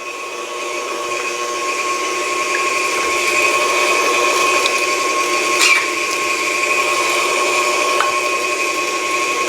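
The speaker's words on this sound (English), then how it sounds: "So let's turn it on to a medium speed and grind away." Electric meat grinder running at medium speed while grinding meat for chicken nuggets, sliders and patties, giving a steady motor whine with a constant high hum, close and alone with no talk.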